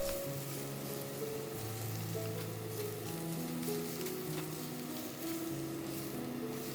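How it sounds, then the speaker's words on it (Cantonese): Radish pieces and pork ribs pan-fry with ginger slices before becoming soybean sprout and seaweed soup, giving a steady, moderately loud sizzle that runs the whole time with no talking. "蘿蔔都要煎一煎"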